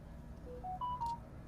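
Short electronic notification tones from a phone, a rising run of clear beeps that climbs to a sustained high note, faint and close against a low room hum, with no talking.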